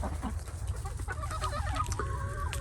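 Backyard chickens cluck steadily and close by while pecking at scrambled eggs and crushed eggshells, with overlapping short calls throughout against a low background rumble.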